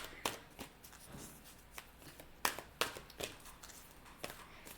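Tarot cards are shuffled close by in quiet bursts of riffling and sharp card snaps that come irregularly, with soft handling noise between them.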